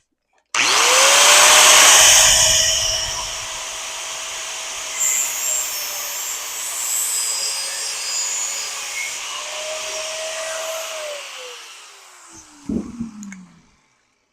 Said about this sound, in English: Get my trusty cutoff wheel.